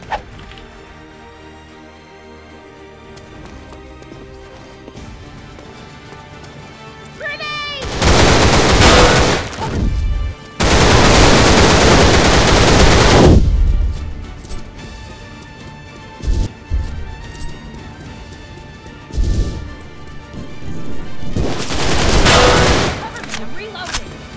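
AK rifle fire in the Line of Sight video game erupts in loud sustained automatic bursts, three long volleys with short gaps and scattered single shots between, over quieter game ambience.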